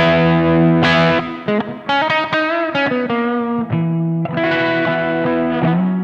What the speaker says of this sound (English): we start here with an amp sound that's breaking up a little